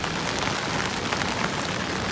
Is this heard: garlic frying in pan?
no